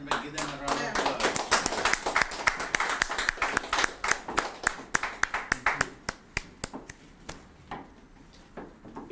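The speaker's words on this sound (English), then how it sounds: "Ladies and gentlemen, give them a round of applause." Dense applause from an audience at a live morning-show event in Sri Lanka, loud and sustained, thinning out toward the end into scattered claps.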